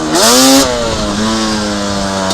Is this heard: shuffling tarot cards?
no